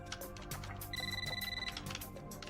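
A telephone rings in a movie scene, a steady electronic trill of roughly a second set amid background score and ambient sound, with no talking over it.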